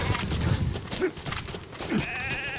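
A sheep in the video game Metal Gear Solid V gives a wavering bleat near the end, preceded by muffled game sounds and thumps, moderately loud against steady background noise.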